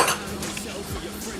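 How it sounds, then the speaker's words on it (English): Llama steak with mustard being moved around a pan, with soft scraping and clinks of a utensil against the pan over a faint simmer, close and fairly quiet. "move that around a bit. Get all that mustard around there."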